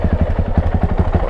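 A 2020 Yamaha YZ450 dirt bike engine, just started for the first time, runs at a steady, close, loud putter with rapid regular thumping pulses.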